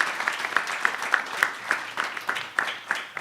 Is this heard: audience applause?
yes